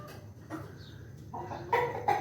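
A hen clucks in short, close bursts during a hot day on a Pakistani farm, with a few louder calls near the end.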